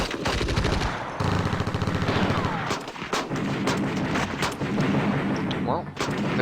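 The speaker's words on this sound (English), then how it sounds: "that is dropping artillery onto them" Artillery fire in the Steel Panthers WW2 war game, with dense, loud overlapping blasts and rapid machine-gun bursts that continue almost nonstop, broken by only a short lull.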